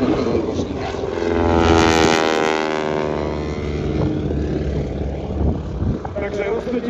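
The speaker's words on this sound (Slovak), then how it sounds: "vychutnajte si ten úžasný zvuk rotora, toho hviezdicového motora, tej obrovskej vrtule tohto dvojkošníka" Radial engine and large propeller of a biplane at the Košice air show, a loud steady drone whose pitch sweeps and swells as it passes near, then settles into a continuous roar.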